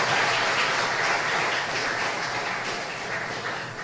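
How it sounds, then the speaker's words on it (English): Sustained audience applause at a Belizean patriots tribute event, a broad wash of clapping that fades gradually over four seconds, with no talking. "Another round of applause for Miss Sylvia Sorita Gillet."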